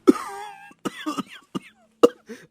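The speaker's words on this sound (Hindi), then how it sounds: "सबका खांस खांस कर बुरा हाल हो गया।" Several people coughing hard from thick smoke of a clay cooking stove inside a small hut, a burst of harsh coughs and throat clearing in quick irregular spurts, close and loud.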